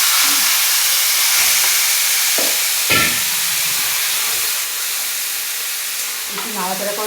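Tamarind sizzles in hot oil in a wok with five-spice seeds and dried chillies, a loud, close hiss with a few scraping stirs and pops scattered through it.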